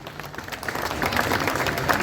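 A crowd applauds at an election winners' announcement and oath ceremony for Akbar Qureshi, with steady, moderately loud clapping and a murmur of voices throughout.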